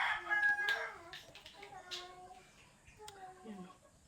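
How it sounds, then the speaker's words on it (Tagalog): Chickens cluck and call in short bursts nearby, with a person talking over them. "May mga jumo-join pa na manok."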